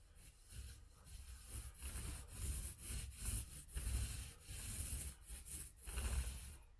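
Paint roller loaded with drywall compound rolling over a patched drywall hole on a wall, a steady soft wet rubbing and rasping with rhythmic back-and-forth strokes, close and continuous with no talking.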